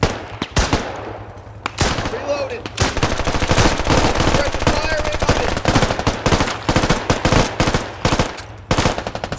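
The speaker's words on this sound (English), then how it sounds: "Shooting by that tree." Heavy gunfire in the military shooter game Squad: sustained rapid automatic bursts and scattered single shots, loud and close, rattling almost continuously with brief pauses.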